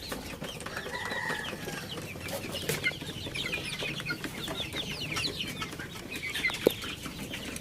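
Village chickens of the KUB breed clucking in a farm coop, soft continuous murmuring clucks and occasional squawks from several birds at a moderate distance, with a sharp click near the end over a steady background hum.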